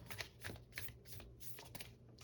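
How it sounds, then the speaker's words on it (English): Tarot cards are shuffled in soft, close, papery riffles that repeat in a loose rhythm, fairly quiet and with no talking. "One more shuffle."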